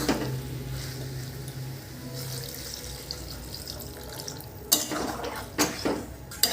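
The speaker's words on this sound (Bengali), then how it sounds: "এবার একটু অল্প করে জল দেবো" A little water poured into a pan of Bengali curry with mushrooms and fried potatoes, a steady running-water wash over a low hum, then a few sharp splashes and clatters near the end, close by and without talk.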